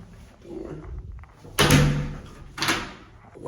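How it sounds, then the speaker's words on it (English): A bathroom door in a small toilet room pulls shut with one solid thunk, followed a second later by a softer knock or latch click, close by and otherwise quiet. "Door."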